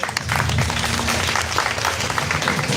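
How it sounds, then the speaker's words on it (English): Loud, thunderous clapping from a college audience cheering twelve finalists at a degree college festival, dense and continuous with some crowd noise mixed in. "I want you to be as thunderous as possible with your claps."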